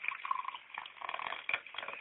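An orange juice and energy drink mixture is poured into a glass as a quiet, steady liquid trickle with faint splashy fizz that lasts throughout.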